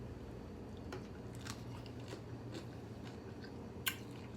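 Close, soft crunchy chewing of Thai papaya salad (som tam) while tasting, quiet irregular bites with one sharper crunch near the end, no talk.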